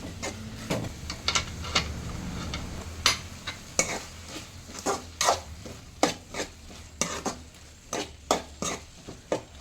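Drumstick curry is stirred in a pan, a spoon scraping and knocking the metal in a rapid irregular series of sharp clacks over a faint sizzle, close and fairly quiet with no talk.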